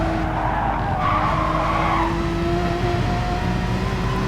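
A Porsche Cup car in GT Sport brakes hard into a corner, its tires squealing in a sustained skid over the steady drone of the engine, loud and close with no voices.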